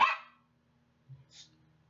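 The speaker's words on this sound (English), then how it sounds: "they're going to be barking a little bit" A single sharp dog bark, then a couple of softer, quieter yips from a dog nearby in an otherwise quiet room.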